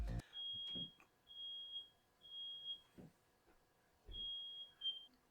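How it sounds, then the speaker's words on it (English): Household smoke alarms shriek in repeated high, piercing beeps, each lasting about half a second, with brief gaps and a few soft thumps and footsteps in between, heard from a short distance with no talking. "All of the smoke alarms started going off for no reason at all."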